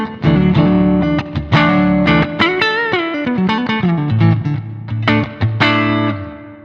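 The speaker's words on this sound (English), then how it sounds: "With a Fender type amp, I like a spring reverb, so I'll set that on." Electric guitar played through a Zoom G3Xn multi-effects processor set to a Fender-type amp model with spring reverb, a loud run of distorted, harmonically rich notes and chords with reverb tails, played alone without talk.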